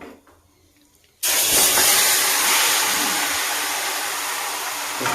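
Chicken pieces dropped into a hot kadai in a home kitchen, setting off a sudden loud, steady sizzle of frying oil after a second of quiet, holding strong and hissing for several seconds.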